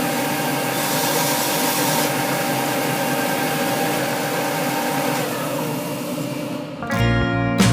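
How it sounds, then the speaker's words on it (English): A belt sander whirs steadily against the wooden headstock of a miniature acoustic guitar with a continuous grinding drone, then the pitch shifts near the end as the machine changes load. "I'm now sanding down the angle of the headstock using the belt sander."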